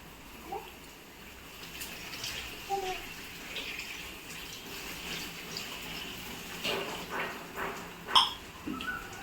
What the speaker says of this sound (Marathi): मी हे एकदाच असं पाण्यातून काढून घेते म्हणजे ते छान येईल